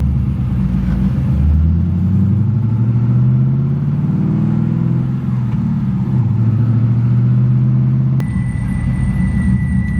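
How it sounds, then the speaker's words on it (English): A car with a rebuilt T56 manual transmission drives along with a steady, close engine rumble whose pitch rises and drops as it shifts, and a thin electronic tone comes in near the end. "let me go for a drive and show you it"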